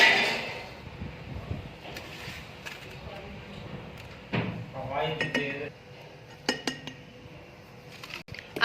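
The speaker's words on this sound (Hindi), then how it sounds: "अब मैं अचार इस मर्तबान के अंदर डाल रही हूँ।" Homemade mango pickle being spooned into a glass jar, heard as irregular clinks and scrapes of a utensil against glass, with a few sharper knocks and moist shifting sounds, separated by quiet stretches.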